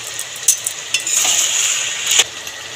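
Chicken sautéing in a pan with coriander paste, onions and salt gives a steady close sizzle, broken by a few sharp spoon-on-pan clinks and scrapes as it is stirred.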